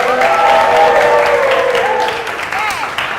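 Students in an English class clap and cheer for themselves after an exhibition, a busy mix of applause and overlapping voices that fades slightly toward the end.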